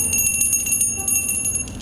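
A bell pulled by a bell rope rings out with a bright, sustained metallic tone that lingers steadily throughout, with no voices.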